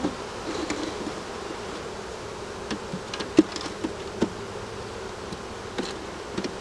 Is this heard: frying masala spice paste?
no